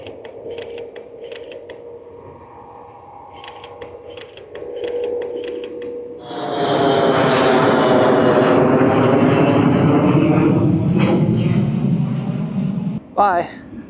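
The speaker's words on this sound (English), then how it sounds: "Man, planes are so cool." An airplane passes overhead at night, first a soft distant hum, then a loud, steady jet roar that swells and holds close by, with a few camera shutter clicks and faint voices early on.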